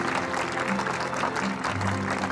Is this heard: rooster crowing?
no